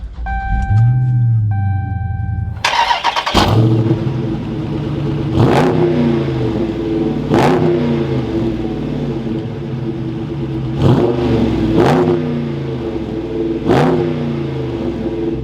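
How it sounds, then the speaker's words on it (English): A 2021 Dodge Charger 392 Scat Pack muscle car, with its V8 engine, cranks and fires up with a sharp burst, then settles into a rumbling idle broken by several loud, evenly spaced revs, close and alone. "let's go ahead and bring this muscle car to life"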